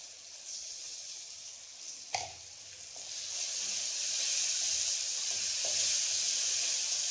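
Ginger garlic paste sizzles and fries in a pan for a chicken and peas curry. A brief clatter is followed by a hiss that grows steadily louder and fuller.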